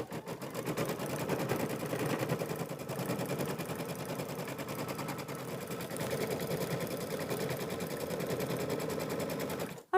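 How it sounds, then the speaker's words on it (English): A sewing machine stitches applique placement lines for clover leaves on a mini quilt, humming in a steady, fast, even run from start to finish with a brief stop right at the end. "the placement lines for the first two clover leaves have been stitched out"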